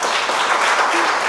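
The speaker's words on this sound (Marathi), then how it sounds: "एकदा जोरदार टाळ्या वाजवणार." An audience at a felicitation ceremony for doctors and chartered accountants breaks into steady, even applause, a dense crowd of clapping hands filling the hall without pause.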